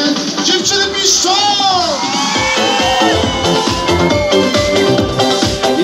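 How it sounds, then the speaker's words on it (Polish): Loud, high-pitched screaming and cheering from a crowd of girls at an outdoor summer concert, rising and falling continuously without a break, with singing and music underneath. "Dziewczyny piszczą!"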